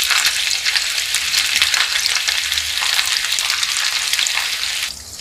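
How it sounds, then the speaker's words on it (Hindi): Mutton kofta balls deep fry in medium-hot oil with a dense, steady bubbling sizzle throughout, close and fairly loud, softening slightly at the very end. "अब इस कोफ्ते को हम डीप फ्राई करेंगे।"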